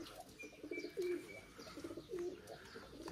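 Feather-footed pigeons on the grounds of a sanatorium coo in soft, rolling, repeated calls at a moderate distance, with gentle outdoor ambience.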